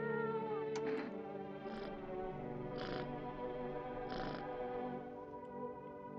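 A cat in the video game No, I'm Not a Human meows about four times, drawn-out, plaintive calls spaced a second or so apart over a steady, quiet tonal game-music background.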